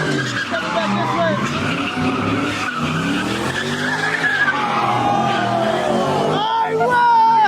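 A Camaro skids its tires at a crowded car meet, a long, loud, wavering squeal that rises and bends over several seconds, with engine roar and people shouting nearby.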